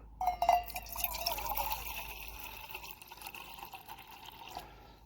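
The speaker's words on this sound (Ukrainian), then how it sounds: "Далі я беру меншу кружку і води сюди налю." Water poured into a small mug while camping outdoors, a bright trickling stream that starts strong, then thins out and tapers off over a few seconds, close by.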